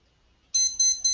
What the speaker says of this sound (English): That's my timer, 5 minutes are over.